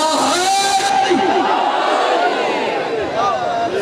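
A large crowd at a religious gathering shouts a slogan together with hands raised, a loud massed chant of voices close and filling the space.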